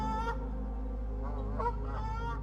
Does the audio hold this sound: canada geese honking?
yes